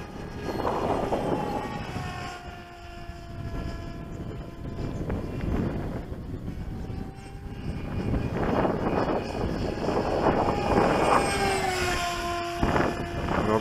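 An Ultra-Z Astro pusher jet RC plane with a thrust-angle engine mod flies past, its whining engine tone rising and falling in pitch as it passes, loud and continuous, swelling toward the end.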